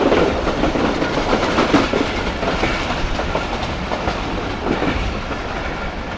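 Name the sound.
Shalimar Express train passing through railway station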